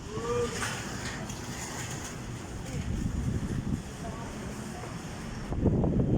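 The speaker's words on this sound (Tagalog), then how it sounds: "Yung hangin, nandito." Gusty wind rumbles against the microphone in uneven surges at a building site in Quezon City during tarpaulin installation, growing stronger near the end, with faint voices in the background.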